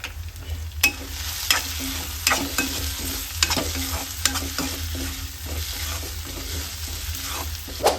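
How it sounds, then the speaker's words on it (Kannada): Tomato masala frying in oil with cashews, crackling steadily in a pan while a spoon stirs and scrapes in repeated knocks, close and moderately loud with no talking. "ನಮ್ಮ ಟೊಮೆಟೊ ಅರ್ಧ ಬೆಂದಿರುತ್ತೆ, ಎಣ್ಣೆಯಲ್ಲೇ ಫುಲ್ಲು ಫ್ರೈ ಮಾಡಬೇಕು"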